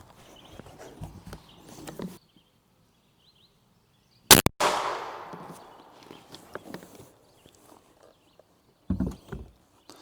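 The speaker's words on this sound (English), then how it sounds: "Shoot a real fruit like an orange." An AEA Challenger Elite air rifle fires a single loud, sharp report at an orange, followed by a decaying rush, with quiet handling and shuffling sounds before and after.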